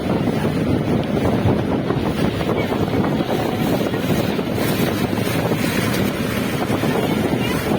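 A speedboat's engine drones steadily on the water and is heavily buffeted by wind noise. The rushing roar is close and continuous throughout.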